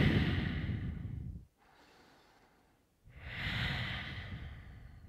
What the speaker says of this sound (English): And then we take another 3 deep Uchae breaths.